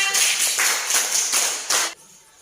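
Classroom applause in a junior high science lesson: a brief burst of many hands clapping in a rhythmic patter that stops abruptly after about two seconds.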